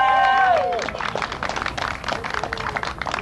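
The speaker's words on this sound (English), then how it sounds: "That's where you're supposed to clap." An audience at a Tea Party meeting breaks into clapping as a sustained tone fades out, the applause loud and dense across the whole stretch with a murmur of crowd noise beneath.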